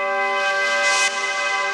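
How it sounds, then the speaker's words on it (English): A front desk bell recording played in reverse and pitched down, swelling with sustained ringing partials into a bright peak and cutting off abruptly, then a steady tone lingering, loud and alone. "this nice reversed kind of bell sound."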